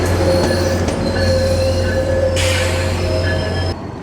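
Passenger train carrying fans to a Leagues Cup stadium in Miami: a loud, close, continuous rumble of the carriage with a steady low hum, faint squeals from the wheels and rattling, with no one speaking.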